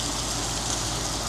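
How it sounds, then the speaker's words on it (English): Heavy rain falls fiercely outside, a dense, steady roar that fills the whole moment without letup or voices. "it is raining pretty fierce out there now"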